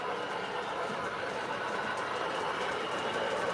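An MTH O scale model train runs steadily, a continuous close rolling whir with faint clicking from the track, with no talk over it.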